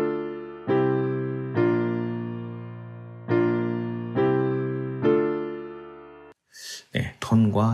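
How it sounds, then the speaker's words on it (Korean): Piano processed through UAD plugins with corrective EQ plays five sustained chords struck one after another, each ringing and decaying cleanly, then someone speaks at the end. "피아노를 한번 들어보겠습니다."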